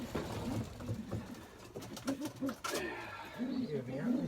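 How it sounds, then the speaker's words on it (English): Pigeons coo in low, rolling bursts close by, including a blue cock, with handling noises and rustling between the calls. "I'll just get a couple of these pigeons out ready for Saturday."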